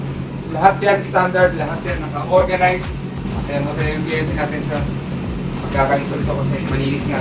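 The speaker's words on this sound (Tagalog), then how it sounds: "May blower tayo para sa jacuzzi." A jacuzzi blower in a pool equipment setup runs with a steady mechanical hum and whir, continuous beneath someone talking close by throughout.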